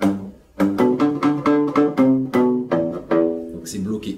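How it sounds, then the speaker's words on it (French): Palm-muted electric guitar strings scratched with a fingernail for a muffled, percussive bass riff; a run of short, damped plucked notes in steady rhythm, close and fairly loud, with no talking. "J'aime bien utiliser ça pour donner ce côté de basse un peu étouffé et percussif."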